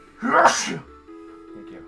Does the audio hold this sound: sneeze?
yes